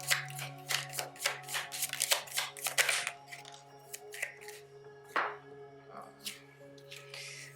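Tarot cards being handled and drawn, with quick papery flicks and shuffling bursts up close at first, then sparser soft slides and taps over a steady low hum, with a voice faintly present.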